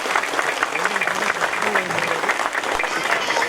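A crowd at a temple wedding festival for Sri Guntu Malleswara Swamy claps together in sustained, dense applause, loud and continuous throughout the short stretch.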